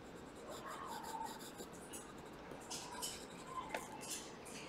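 A silver Bic colored pencil scratching over paper, soft continuous scribbling strokes in a quiet, close room, low in level with small bursts of rubbing.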